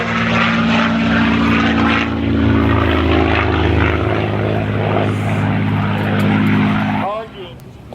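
A P-51 Mustang makes a low-level flyby at the 2015 Geneseo airshow. Its propeller engine gives a loud, close, sustained drone with a steady harmonic hum that cuts away sharply near the end. A voice talks over it.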